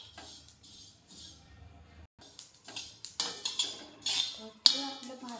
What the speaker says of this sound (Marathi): तीळ जरा खरपूस भाजून घ्यायचं मंद आचेवर.